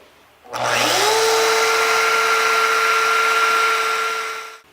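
A big domino joiner spins up and cuts mortises in bench legs, a loud close whine that rises to a steady tone and holds for several seconds before winding down, with no voices.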